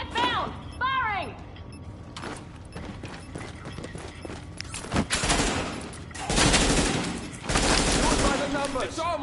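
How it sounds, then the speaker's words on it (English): Rapid bursts of automatic gunfire and single shots ring out in a tactical shooter video game set in an urban combat zone, loud and repeated across the stretch, with shouted voices over the firing. "Contact found! Firing!"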